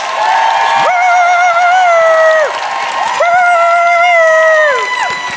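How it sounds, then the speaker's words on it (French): A loud live comedy-show audience cheers and whoops for two performers taking the stage, with sustained shouted voices rising and falling in long swells close by. "On fait un tonnerre d'applaudissements pour Sinem Cara et Doua Kachash."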